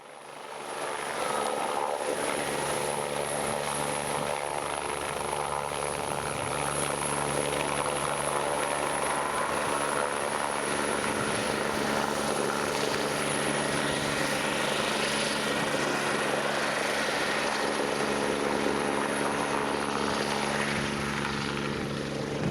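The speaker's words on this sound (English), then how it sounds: "And we saw this helicopter." Ambulance helicopter passing close overhead near Calais, its steady rotor and engine drone loud and continuous throughout, with a faint high whine above the broad roar.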